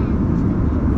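A steady, loud, low roar of airplane cabin noise during a flight over the Indian Ocean, filling the short moment without change.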